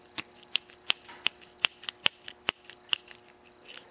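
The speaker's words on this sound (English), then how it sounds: "First I'm going to pull off this cover." Sharp, clicking snaps from screws or clips as the carburetor cover comes off a Husqvarna 136 chainsaw, about a dozen distinct ticks in uneven rhythm, close and crisp over quiet.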